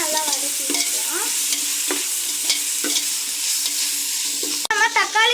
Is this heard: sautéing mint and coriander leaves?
yes